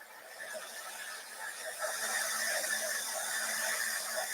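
A heat tool blows steadily while melting embossing powder on paper butterflies. The hiss and whir hold evenly and fairly quietly the whole time, with a faint mechanical rattle inside and no speech.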